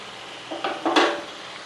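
Fish and tamarind leaf curry stirred gently in a pot: a few brief, soft scraping and clinking strokes of a spoon in quick succession, close by.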